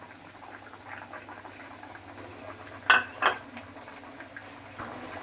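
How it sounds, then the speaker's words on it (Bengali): Fried fish pieces go into a boiling curry broth with taro stems, giving two sharp splashing sizzles close together over a low background bubble, then quiet simmering. "জুল ফুটে গেছে এখন ভেজে রাখা মাছগুলো দিয়ে দিচ্ছি"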